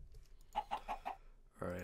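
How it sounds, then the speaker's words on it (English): Baby chickens in the Minecraft video game give a quick run of four soft, evenly spaced clucks, followed by a louder burst of game noise. "Oh, baby, two baby chickens, nice."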